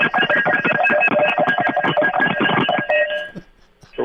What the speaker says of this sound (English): So I'm signing some cowbells, and they sound like this.